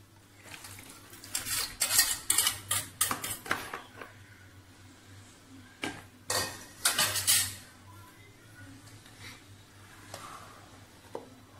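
Ingredients going into a big kitchen bowl for a cheese pizza: clusters of clattering dish and utensil knocks, a busy run of clinks at the start and another burst midway, then a few scattered taps, with no talking.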